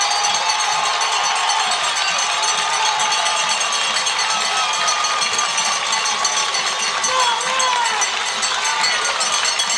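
A capacity crowd at a 1996 high school football game, Mount Carmel Area Red Tornadoes against the Shamokin Indians, roars as the team runs onto the field. The noise is a loud, steady, unbroken wash of cheering.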